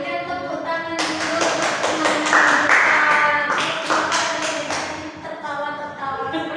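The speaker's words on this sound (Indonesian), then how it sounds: "kita berikan tepuk tangan dulu" A school class claps together in a quick, steady rhythmic run of crisp claps for several seconds, with chanting voices under the clapping and talk before and after.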